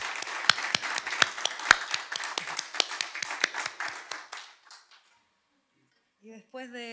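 A small concert audience claps for a bassist who plays double bass and electric bass, with sharp, close, uneven claps that thin out and stop, followed by a voice speaking.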